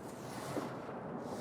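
The gas burner of an Ooni Koda 16 pizza oven running on a low flame gives a steady, soft, even roar that holds without change for the whole moment, with no voices over it.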